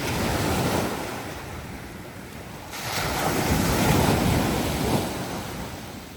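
Heavy surf rumbles and crashes on rocks close by at Hopewell Rocks, Bay of Fundy, swelling louder midway through, with steady wind buffeting the microphone throughout.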